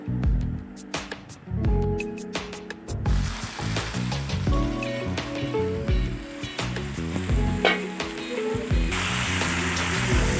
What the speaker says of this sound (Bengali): হলুদ গুঁড়ো কেটে রাখা চিকেনের পিসগুলো দিয়ে দিচ্ছি দিয়ে ভালো করে আমি কষিয়ে নেবো